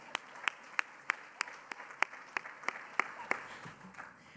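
Audience at a Kennedy Library conference claps in sharp, evenly spaced beats over a quiet room murmur, fading out after about four seconds.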